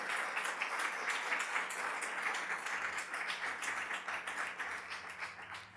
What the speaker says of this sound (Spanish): Denle un aplauso fuerte al Señor por eso.